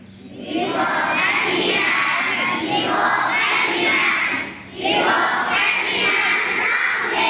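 Many children shouting and screaming together at a school morning assembly, a loud sustained crowd roar with a brief dip partway before it swells again.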